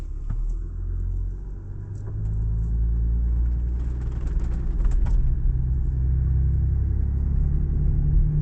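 A Land Rover Defender 110 D350 diesel engine hums low and steady, then rises to a stronger rumble as throttle is gradually applied in a low-traction launch attempt on slippery ground, heard from inside the cabin.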